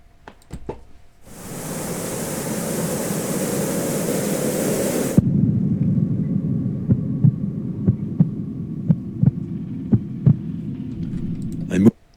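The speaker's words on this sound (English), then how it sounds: "After hearing that heart pounding" A pounding heartbeat sound effect throbs under a low hum, its heavy beats thumping at a steady, fairly quick pace after a burst of hissing noise cuts off, then ending abruptly.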